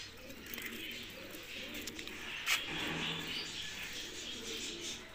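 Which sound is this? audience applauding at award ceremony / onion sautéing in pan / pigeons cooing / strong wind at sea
pigeons cooing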